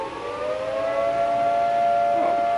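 An outdoor emergency siren sounds a steady, loud wailing tone that holds for the whole stretch, heard alone without talk.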